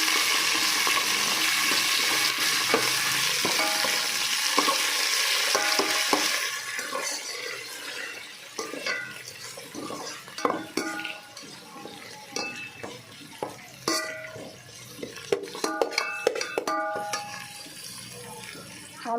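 Whole spices, chopped coriander and mint frying in a pot for mutton biryani, with a steady sizzle at first that gives way to scraping stirs and clinks of a spoon against the pan, close up and without talk.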